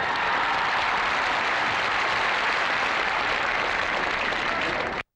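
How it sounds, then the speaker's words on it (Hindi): Applause rings out from an audience welcoming a guest at a college award ceremony, a steady, dense wash of clapping filling the whole stretch before cutting off abruptly. "तो आइए हम उनका तालियों के साथ स्वागत करें।"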